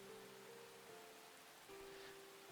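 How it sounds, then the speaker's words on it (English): Rain patters as a steady, soft, hissing wash in a visual novel video game, with a faint tonal hum beneath it and no voices. "The only sound entering my ears are the pattering of the rain and the rhythmically tapping of her feet against my shins."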